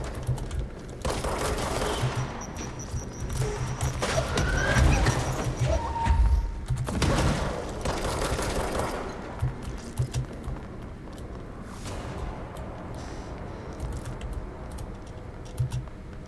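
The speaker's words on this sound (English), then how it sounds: "The enemies explode, this guy throws grenades." Gunfire, grenade blasts and exploding enemies in the video game Control, a busy stretch of rapid shots and heavy bursts with clattering impacts that thins out toward the end.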